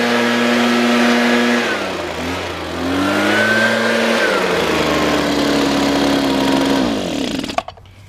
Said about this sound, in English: now with the leaf blower